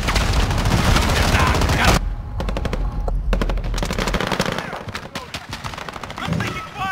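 Rapid automatic gunfire in the Call of Duty video game, loud dense bursts at first, then sharper separated shots and scattered firing at varied distances.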